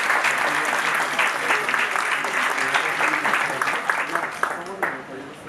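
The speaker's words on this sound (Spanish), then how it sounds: "para el cual pido un aplauso" Sustained applause from an audience at a book presentation on notary practice in Mexico, dense and even clapping that fades slightly toward the end, with a voice talking faintly underneath.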